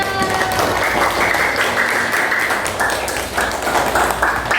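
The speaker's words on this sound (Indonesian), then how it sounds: "Tepuk tangan buat kita." A class of students claps together during an Islamic religious education lesson, a steady, dense patter of many hands that holds close and fairly loud, with a faint tonal voice near the start.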